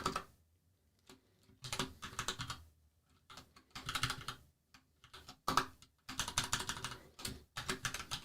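Fingers type on a computer keyboard in short irregular bursts of quiet, close key clicks separated by brief pauses, with no talking.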